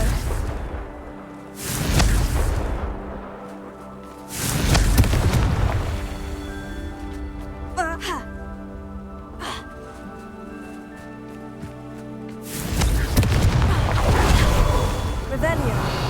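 Confringo blast spells explode in Hogwarts Legacy as several deep booming bursts spaced a few seconds apart, each with a rumbling whoosh, between stretches of game music and a voice calling out spells.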